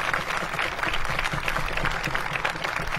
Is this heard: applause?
yes